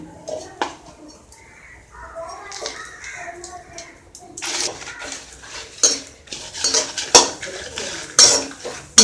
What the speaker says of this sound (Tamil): இப்போ நான் காஞ்ச மிளகாவை போடுறேன்